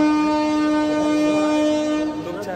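At a railway station in Gujarat late at night, a train horn holds one long, steady tone just before departure. It sounds loud and fairly close and fades slightly toward the end.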